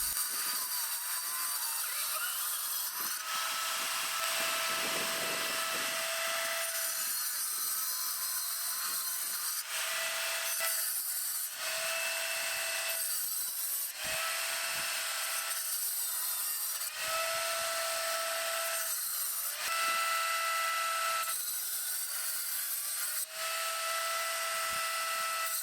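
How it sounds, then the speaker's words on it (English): Wet tile saw cutting slate tile into shapes for a bear figure, a loud continuous whine and grinding that rises and falls as each cut starts and stops. "I start out by cutting the 3 main pieces from the slate tile"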